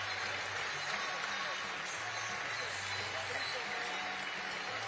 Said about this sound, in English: he receives a huge round of applause from the Flyers and the Eagles fans